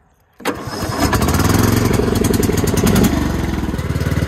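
A Cub Cadet XT1 lawn tractor engine cranks briefly and catches, then settles into a loud, steady, close-up idle with a rapid even pulsing rhythm.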